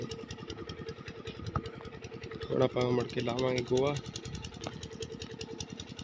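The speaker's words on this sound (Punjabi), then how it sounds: "ਦੇਖੋ ਬੋਰ ਚੱਲੀ ਜਾਂਦਾ ਉਧਰ ਫਿੱਟਰ ਆਪਣਾ ਇਧਰ ਆਪਣੀ ਮੋਟਰ ਚੱਲੀ ਜਾਂਦੀ" An irrigation borewell pump motor runs in a paddy field with a steady rapid chugging pulse, close and moderately loud, while someone speaks briefly over it.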